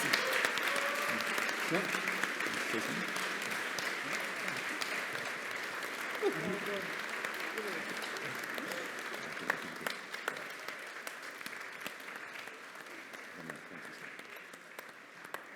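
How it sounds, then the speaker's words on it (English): A conference audience applauds steadily for a long stretch, a dense wash of clapping that gradually thins out toward the end. "can we give her a round of applause?"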